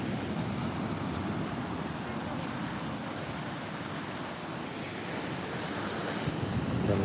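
Continuous rushing surf on a beach at Muaro Bayang, Pesisir Selatan, broad and steady, with wind buffeting the microphone and no voices.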